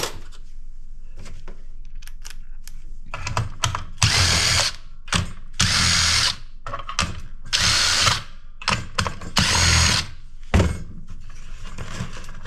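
A power screwdriver backing Torx screws out of electronic scrap whirs in a series of short bursts of varying length, close and loud, with ratcheting clicks and quiet handling between them.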